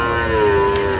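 A Sahiwal bull calf lets out a loud, sustained moo at a busy cattle market, the low lowing call filling most of the second over background crowd noise.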